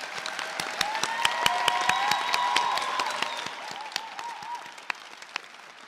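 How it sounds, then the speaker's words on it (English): Applause from a room full of people at a veterinary college white coat ceremony, many hands clapping steadily with a few sharp individual claps standing out, tapering slightly toward the end. "Let's give one more round of applause to our veterinary nursing students."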